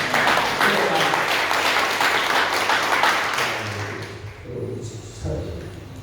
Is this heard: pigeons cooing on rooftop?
no